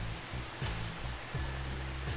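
Steady rainfall, a broad even wash of drops hissing on surfaces, moderately loud and continuous with a low hum beneath and no speech.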